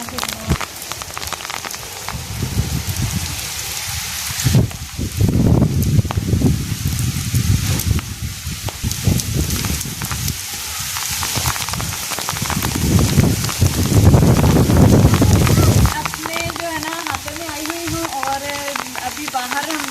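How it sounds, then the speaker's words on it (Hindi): Steady rain pours down in a village, a dense continuous hiss of drops on surfaces with heavier splashing bursts, heard close and loud throughout, with some muffled movement and handling noise mixed in. "बारिश हो रही है और इस ठंडे ठंडे बारिश के मौसम में चलना फिरना"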